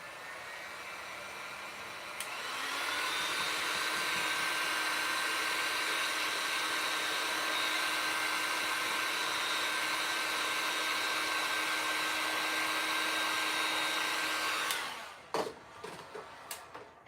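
Hair dryer blowing on Mod Podge decoupage atop a craft pumpkin, switching on with a click into a steady close whine and rush of air for about twelve seconds, then cutting off followed by a few handling knocks.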